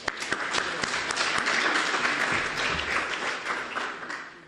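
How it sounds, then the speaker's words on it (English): Audience applause for the panelists at a live constitutional governance discussion in Botswana, a steady dense clapping that holds loud for the full stretch and fades slightly at the end. "Please join me in applauding our panelists for their valuable"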